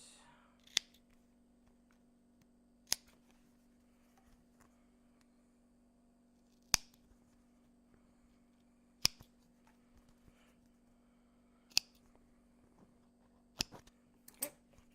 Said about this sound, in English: Now we're going to snip these apart.